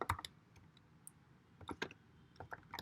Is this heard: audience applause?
no